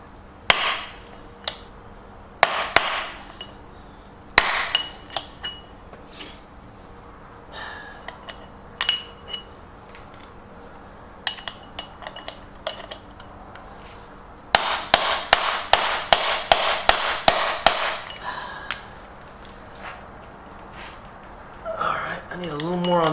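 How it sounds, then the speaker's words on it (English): A bigger hammer striking an Isuzu wheel hub during bearing and rotor work, sharp metallic blows at irregular intervals, then a rapid run of repeated strikes, loud and close with a voice talking in between. "I think it's bigger hammer time."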